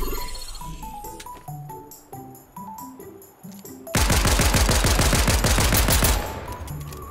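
A mythic pistol fires in Fortnite: quiet game sounds with a few clicks come first, then a loud, rapid string of shots lasts about two seconds before it cuts off.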